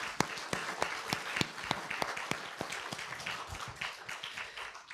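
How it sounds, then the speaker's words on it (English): An audience at an artist talk breaks into applause, a dense patter of many hands clapping at moderate volume for the full stretch, with no talking over it. "let's give him a round of applause."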